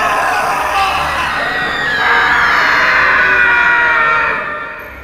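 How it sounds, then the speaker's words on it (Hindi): Agonized screams from several people in a room, staged as an audio-drama effect, a continuous loud wailing chorus that swells around the middle and tapers off at the end. "शुरू हुई कमरे में लोगों के दर्द से चीखने की आवाजें।"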